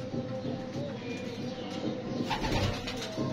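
A pigeon coos softly in low, throaty murmurs over quiet background noise.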